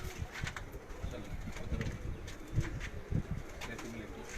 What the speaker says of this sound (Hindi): अब ये जो कबूतर आप देख रहे हैं ये भी हीरा लालों में से हैं।